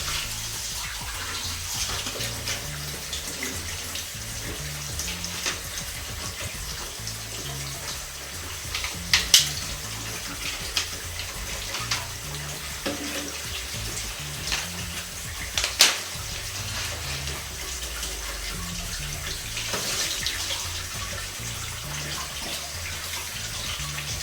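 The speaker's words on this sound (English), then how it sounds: "now we're just gonna do a little bit of a rinse with the film" Water runs steadily from a tap in a laundry room to rinse freshly developed film, a continuous close splashing stream with a few small clinks, no talk.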